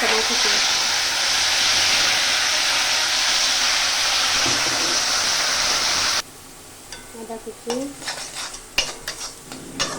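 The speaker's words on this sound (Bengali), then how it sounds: "কড়াতে দিয়ে দেবো পাঁচ ফোড়ন লঙ্কা তেজপাতা কাঁচা লঙ্কা" Panch phoron, bay leaf, dried and green chillies and chopped ginger hit hot oil in a kadai with a loud, dense sizzle for six seconds, then it drops to quiet spoon stirring and clinks of metal.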